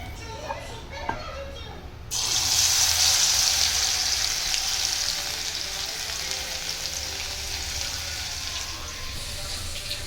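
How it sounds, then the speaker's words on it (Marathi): Crushed garlic hits hot oil and bursts into a loud, steady sizzle that starts abruptly after a couple of seconds and holds at an even level to the end, with faint household noise and children's voices in the background beforehand. "दोन पळे लसूण ठेचून घेतलेला लसूण टाकायचा आहे ऑइलमध्ये"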